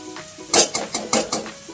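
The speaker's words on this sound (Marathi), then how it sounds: "बटाटा उकडलेला आहे, पण चांगला फ्राय होऊन देणार आहे." Boiled potato frying in peanut oil for fasting khichdi brings a quick run of five or six rhythmic spatula scrapes over a light sizzle, close and brief, with no talking.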